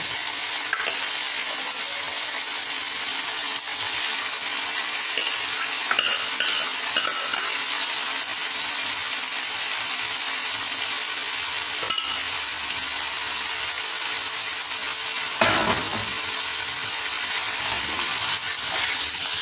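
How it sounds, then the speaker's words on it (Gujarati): Boiled potatoes and cauliflower being stirred in a pan for pav bhaji, a steady close scraping and sizzling texture that carries on evenly for the whole stretch, with a few light clinks of the utensil. "તો તેમાં આપણે બાફેલા પોટેટો અને ફ્લાવર બધું મિક્સ કરીશું."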